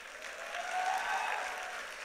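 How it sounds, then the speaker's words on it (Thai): An audience at an insurance company event applauds the Thai national team, a short, fairly faint patter of clapping that swells slightly in the middle, with a faint tonal whistle heard within it. "พวกนี้เขาเรียกว่าทีมชาติไทยปรบมือให้ทีมชาติ"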